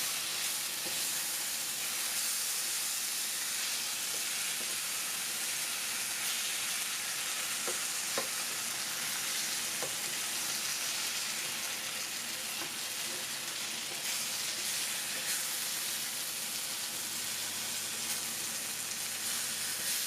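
Chakalaka, a vegetable relish, sizzles and fries steadily in a pan on a stove, with a continuous close hiss of steam and a few faint clicks of stirring throughout.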